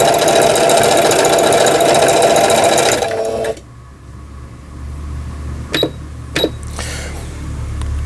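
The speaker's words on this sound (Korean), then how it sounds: "넘버 원에 직선 바느질, 가장 중요한 것이 직선 바느질이 되겠습니다" A sewing machine running a straight stitch, a loud steady close whir for about three seconds that then stops, followed by a quiet hum and a few mechanical clicks.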